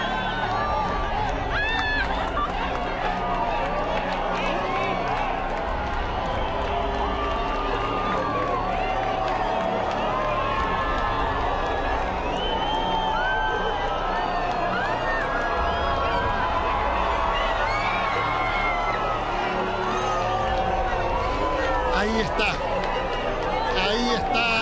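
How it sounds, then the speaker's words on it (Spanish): Large outdoor crowd at a total solar eclipse in Vicuña, Chile, 2019, a dense continuous roar of cheering, whoops and applause with voices shouting throughout, sustained and loud across the whole stretch. "Solo escuchen los aplausos, por favor."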